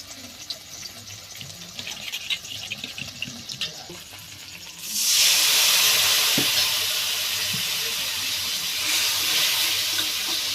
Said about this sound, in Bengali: ভালো করে জল দিয়ে মিশিয়ে নেব।